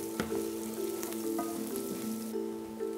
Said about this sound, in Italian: la fregola sarda, lasciamo tostare leggermente